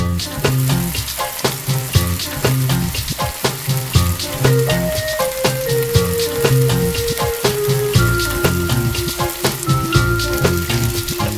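Halloumi cheese pieces and small vegetables sizzle steadily as they grill in a pan, a continuous crackling hiss running beneath a melodic music track throughout.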